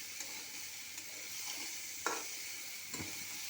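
Spice masala being sautéed in a pan gives a soft, steady sizzle, broken by a few faint scraping stirs and a couple of light clinks.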